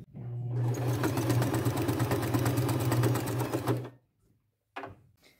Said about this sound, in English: I'm just going to sew around the edge with a quarter inch seam allowance and my second to largest